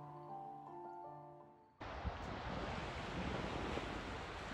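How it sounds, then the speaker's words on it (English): Ocean waves wash in at Salem Wharf in Massachusetts at night, a steady loud roar of surf with wind buffeting the microphone, breaking in abruptly after a quieter stretch of tonal hum. "we are now by the ocean"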